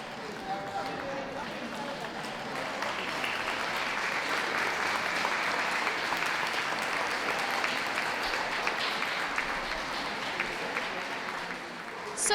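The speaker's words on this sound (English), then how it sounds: "A round of applause for them," Steady applause ripples through the crowd at a championship dog show, a continuous moderate wash of clapping lasting throughout with faint talk mixed in.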